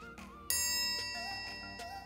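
Triangle ding signalling a correct game show answer: a bright metallic strike rings out clearly, with other chime-like tones and musical notes around it, sustaining loudly with no talking.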